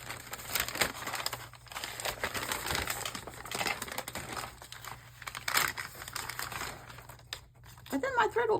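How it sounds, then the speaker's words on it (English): Painted craft paper crinkles and crackles as it is handled up close, in irregular bursts, with quiet talking near the end. "Craft paper that I've painted."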